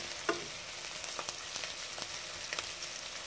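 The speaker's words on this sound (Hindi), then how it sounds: "1 मिनट के लिए इसको थोड़ा सा और फ्राई कर लेते हैं।" Onions fry in a pan with a quiet, steady sizzle, punctuated by a few soft clicks and taps of stirring, heard close and alone with no talk.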